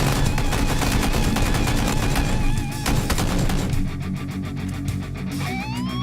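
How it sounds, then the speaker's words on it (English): Dense, rapid gunfire in the game PUBG rattles almost nonstop, with bursts of automatic fire and layered shots over a busy game soundscape. "All the gunfire naturally drew a lot of attention."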